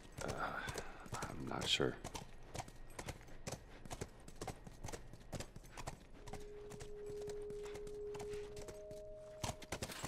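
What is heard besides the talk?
horse hooves clip-clopping in The Last of Us video game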